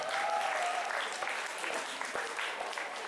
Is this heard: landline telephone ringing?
no